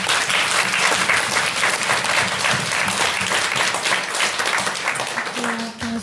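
Audience applause at an event, steady loud clapping from a crowd sustained for about six seconds, close and even throughout, with a brief faint voice near the end.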